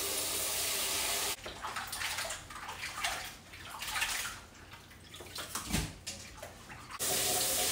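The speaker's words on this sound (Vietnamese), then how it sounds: "bật qua đây cho cái vòi nước nó ấm một chút" Kitchen tap running while shrimp are washed in warm water, a soft splashing, gurgling stream that thins and swells with handling, starting and ending as a steadier close pour, with no talking.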